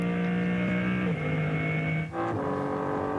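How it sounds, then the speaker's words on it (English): Turbocharged BMW M3 Touring race car, running an M4 GT3 engine, at the Nürburgring during qualifying: a loud, steady engine drone holding high revs, with a gear change and a brief lift before the pitch climbs again. "And look how quickly that BMW M3 Touring has scampered up the road, listening in to what is effectively still the BMW M4 GT3 turbocharged engine"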